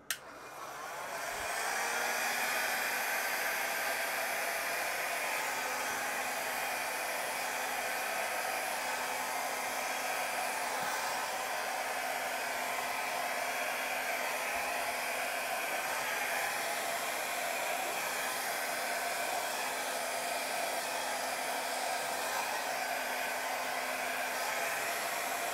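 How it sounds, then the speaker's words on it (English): A mini hair dryer switches on and blows steadily on a low, cool setting, a continuous airy whoosh with a faint motor whine. "And then we're going to use my trusty mini hair dryer."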